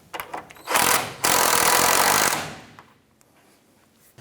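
A power tool snugs a castle nut onto the outer tie rod of a 1994–2004 Chevy S10, giving a loud, close, steady whir of about a second and a half after a brief first burst, then trailing off into quiet.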